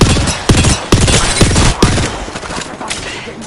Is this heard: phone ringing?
no